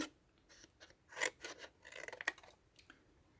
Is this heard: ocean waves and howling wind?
no